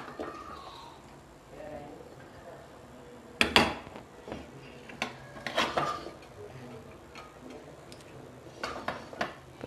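A crab is cut on an aruvamanai, the traditional floor-mounted blade, with sharp cracking snaps of shell and clicking bursts among quieter handling noises, while someone talks.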